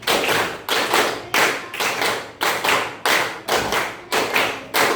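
Classroom pupils clapping a rhythm in unison, three bursts of five quick claps each, loud and close in a school setting, with no talking.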